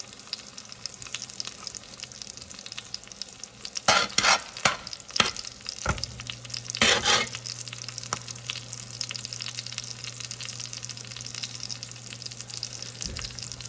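Over-easy eggs and salmon fry together in a pan, a steady broadband sizzle running throughout with a few louder bursts of spatter and utensil scraping in the middle and a low steady hum underneath.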